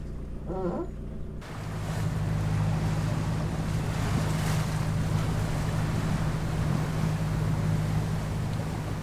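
Sailboat motoring along the coast, a steady engine drone under rushing waves and wind buffeting the microphone, loud and continuous after a brief quieter start.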